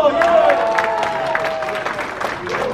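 Applause and cheering from an audience at a community gathering after an eagle is announced at a golf event, with dense clapping mixed with crowd voices and tonal chatter throughout.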